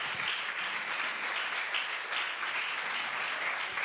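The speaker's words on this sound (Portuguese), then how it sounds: "Vamos aplaudir a Jesus." A church congregation at an evening service applauds, a dense, continuous wash of clapping at even loudness throughout, with no voices on top.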